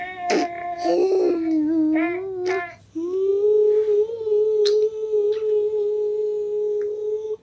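A person produces a steady, buzzing hum through pursed lips, imitating a bee, with a brief break before the drone resumes and holds.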